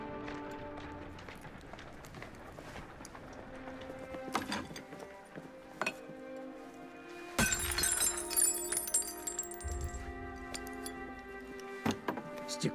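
Glass shattering in Assassin's Creed Syndicate, a sharp crash with bright splintering fragments rising out of a quiet scene, followed by scattered lighter clinks and ticks.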